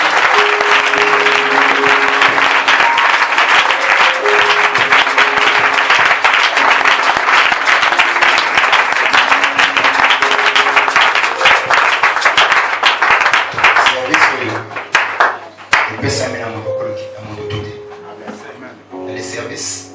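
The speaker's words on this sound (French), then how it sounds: "Est-ce que tu peux acclamer très fort?" A church congregation at a prayer service applauds and cheers loudly in a dense, sustained roar of clapping that thins toward the end as a voice speaks.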